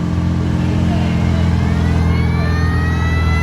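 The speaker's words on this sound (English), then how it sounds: "The good old Foden lorries." A vintage Foden lorry engine rumbles steadily nearby at the Lincolnshire Show, with a low mechanical drone and rising whine holding throughout.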